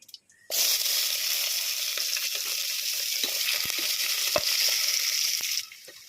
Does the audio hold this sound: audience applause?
no